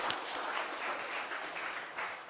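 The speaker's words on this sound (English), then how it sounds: "how about a round of applause for our speakers?" A conference audience applauds its speakers at an international academic gathering, a dense, even spread of clapping at moderate loudness that holds without a break for a couple of seconds.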